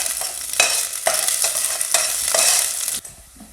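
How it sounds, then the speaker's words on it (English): Garlic frying in a pan while being stirred, a close sizzle broken by several scraping strokes of a spoon, ending abruptly into quiet near the end; no voices. "I'm going to keep stirring the garlic until they turn nice golden color."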